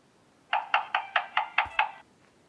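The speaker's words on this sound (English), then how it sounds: "He ran back to the house and knocked on the door a third time." Seven even knocks on a wooden door come at a steady pace, close and crisp, alone without any voices.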